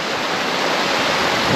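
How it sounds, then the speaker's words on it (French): A river in the Barranc de Méréa gorge in Spain flows in a steady, full rush of water, running at low levels in dry conditions, with no voices over it. "Et voilà, la belle rivière."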